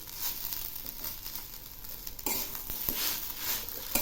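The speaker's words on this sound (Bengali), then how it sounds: "এবার একটু নেড়ে দিচ্ছি।" Shola kochu (taro) curry being stirred with ghee in a pan near the end of cooking, giving a soft, steady sizzle with scraping and rustling bursts that grow busier in the second half.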